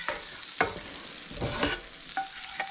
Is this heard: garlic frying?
yes